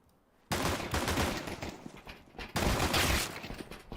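Loud, dense gunfire from the video game Counter-Strike 2 during a competitive match: two sustained bursts of rapid shots, each cutting in suddenly and continuing for about two seconds, with no speech.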